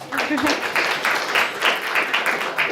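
Crowd clapping at a city council meeting during a certificate presentation, a dense, moderately loud patter of hands sustained throughout, with a brief voice near the start.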